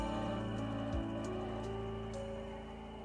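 Rain falling in a visual novel game, a constant soft wash of drops laid under sustained background music with a few faint chimes, no voices.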